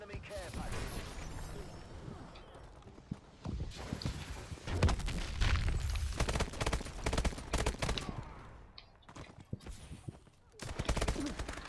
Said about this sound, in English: Let's get that bombing run kill.